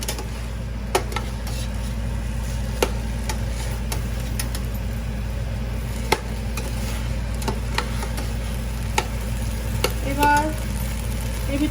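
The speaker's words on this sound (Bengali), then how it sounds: "আমি এবার একসঙ্গে নাড়াবো" Pumpkin greens labra is stirred in a pan, with a steady sizzle over a low background hum and scattered sharp clacks of the spatula against the pan at irregular intervals. There is no talking.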